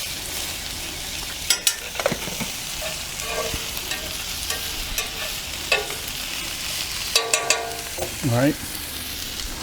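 Potatoes and mushrooms fry in olive oil in a pan, giving a steady close sizzle broken by a few clanks and scrapes of stirring, with a brief spoken remark.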